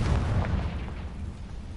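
A Confringo spell explodes in the video game Hogwarts Legacy, a loud bursting boom that rolls off into a low rumble over under two seconds, with no talking.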